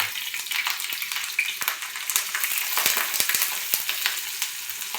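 Mustard seeds, cumin and green chillies sizzling and popping in hot oil on a tawa, a loud steady fry with sharp crackles scattered throughout and no talking.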